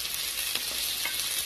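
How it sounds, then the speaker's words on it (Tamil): Onions sautéing in a pressure cooker for kuska biryani, a bright dense sizzle with a few faint scraping stirs, close and steady, no voices. "இப்போ வெங்காயம் வதங்கிடுச்சுங்க"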